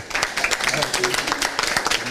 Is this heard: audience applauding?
yes